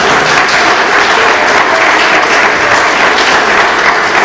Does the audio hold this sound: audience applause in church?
yes